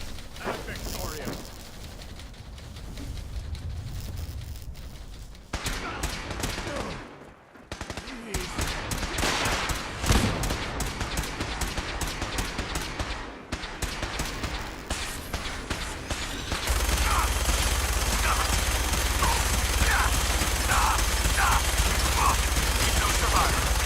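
Rapid bursts of automatic gunfire and single shots in the Fallout 4 video game, dense and loud, with sharp repeated cracks, pauses, and a radio-style voice speaking over the combat.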